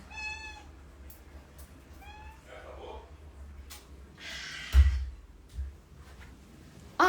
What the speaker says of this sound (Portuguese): a minha gatinha, ela tá chorando na porta.